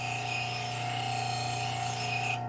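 Steady grinding hiss of a blade pressed against a spinning Scotch-Brite wheel to remove a burr, with a constant motor hum underneath, continuous and close, no talking.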